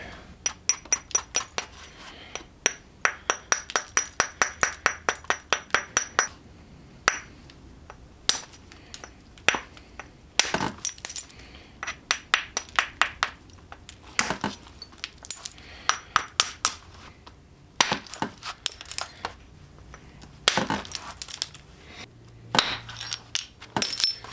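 Chert struck with hammerstones while shaping a hand axe, giving sharp clicking knocks that come in quick rhythmic runs and scattered single hits, close and fairly loud, with no talking.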